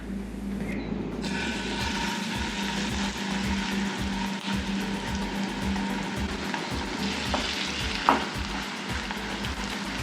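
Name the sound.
besan pola batter frying in hot oil in pan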